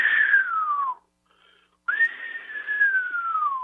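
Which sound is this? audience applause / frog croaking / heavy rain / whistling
whistling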